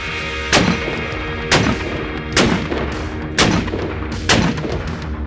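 Rifle fired with a five-port muzzle brake, five loud sharp shots at a steady pace about one second apart, each with a short echoing tail, no talk.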